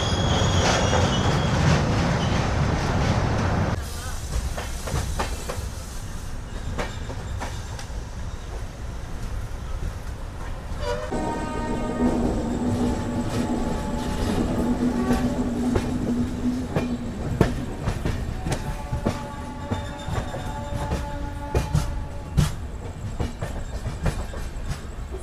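A Padmavati SF Express running on LHB coaches rolls along with a steady rumble and wheel noise, then sharp metallic wheel squeals ring out as it slows near a station, with clicking over the rail joints.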